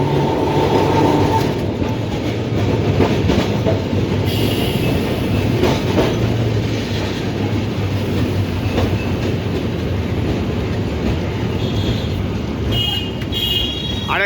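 A tram running on rails on a city street, its steady rumble and clattering wheels loud and close for the whole stretch, with brief squeals and rattles and no voices.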